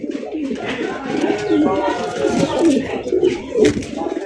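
Fancy racer pigeons coo repeatedly and fairly loudly at close range, a rolling, warbling call that keeps going while people talk nearby.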